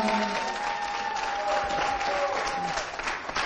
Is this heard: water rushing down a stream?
no